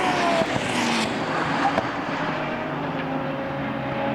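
GT3 race cars, including a McLaren 720S GT3 and a Ferrari, race around a circuit, their engines a loud, sustained roar with shifting pitch as cars pass and change gear in close traffic.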